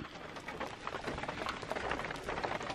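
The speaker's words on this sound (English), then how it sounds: "Well, it's raining." Rain falling during a storm in Sedona, Arizona: a dense, steady hiss of drops pattering on surfaces, moderately loud and continuous for a few seconds with no voices.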